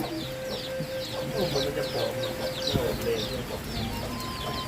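Chickens cluck and chatter in a busy outdoor background, with repeated short bird calls over a steady ambient hum.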